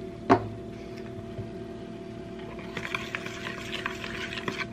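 Sugar, beaten egg and vanilla being mixed in a bowl, opening with a sharp knock of the utensil, then a quiet steady churn that turns into rapid, rhythmic scraping and stirring.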